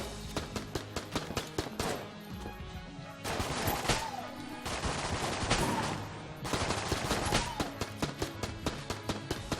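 A fast-firing, Uzi-like gun in Enter the Gungeon lets off quick, evenly spaced shots, with bursts that blur into denser fire, fairly soft in level.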